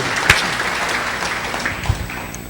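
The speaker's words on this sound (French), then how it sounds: "Can we give the Lord a hand?" A congregation at a church service claps together for the Lord; a short burst of steady, moderately loud applause with a sharp clap near the start, filling the room.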